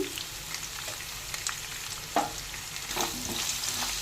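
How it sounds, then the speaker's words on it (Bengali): Pumpkin and potato pieces fry in hot mustard oil in a kadai, giving a steady moderate sizzle broken by occasional stirring knocks and scrapes. "এবার সামান্য একটু কুমড়ো আর আলু ভেজে নেব"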